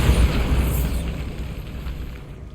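Bombarda spell explosion in Hogwarts Legacy, a single loud deep boom that bursts at once and rumbles away over a couple of seconds, alone with no voices.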